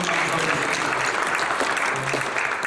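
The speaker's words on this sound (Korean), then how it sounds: "뜨거운 마음으로 박수 한번 주시면 감사하겠습니다." Sustained applause from a church congregation at a joint Easter thanksgiving service in Korea, steady dense clapping filling the room throughout, with faint voices mixed underneath.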